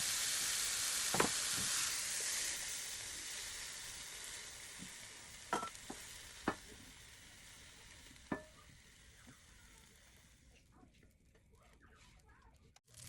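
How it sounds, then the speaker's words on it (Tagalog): Chicken pieces stir-fried in oil in a pan give a faint, steady sizzle, broken by a few sharp scrapes and clacks of stirring. "Then with additional oil into the pan, we will fry the chicken. Stir fry the chicken."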